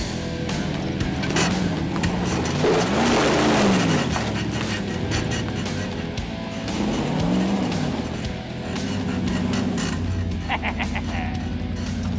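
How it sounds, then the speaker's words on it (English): A Ford F-100 truck drives on trails, its engine rumbling steadily and rising and falling as it revs, with occasional tire noise. "Now it's time to see how it handles a couple of trails."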